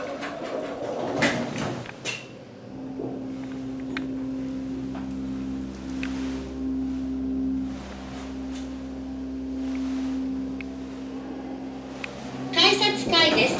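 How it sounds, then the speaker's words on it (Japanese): Sliding doors of an elevator at a Sapporo subway station rolling shut after a recorded announcement, then a steady motor hum with a faint tone as the car travels, and a rattle near the end. "扉が閉まります。"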